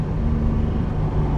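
A 1974 Ferrari 246 GTS Dino with its mid-mounted V6 running, a loud, steady low engine drone with a rough, throbbing texture and no voices over it.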